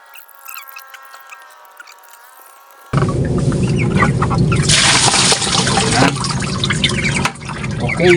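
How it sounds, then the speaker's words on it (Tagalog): Water poured from a bucket onto a chicken house floor to wash down droppings, a loud sustained splashing gush after a quieter stretch with someone speaking Tagalog, with chickens faintly present. "Kung may ipot, bubuhusan na po natin ng tubig para hindi na tumitigas"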